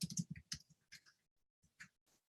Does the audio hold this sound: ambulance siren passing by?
no